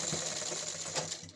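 A sewing machine stitches fabric in a quick, even mechanical clatter, running steadily up close for a moment before stopping, with no talk.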